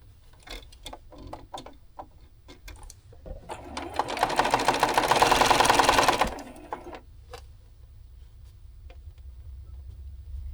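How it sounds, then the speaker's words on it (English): A sewing machine stitches quilt block rows together in a fast, steady whir lasting a few seconds, framed by scattered clicks and taps of handling the fabric before and after. "Now we're going to sew our rows together, top to bottom or bottom to top or middle out"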